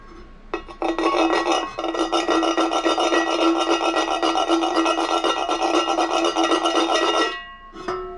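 A steak knife scrapes hard across a Cainfy hybrid frying pan in one sustained, loud, gritty rasp lasting several seconds, followed by a brief lighter scrape.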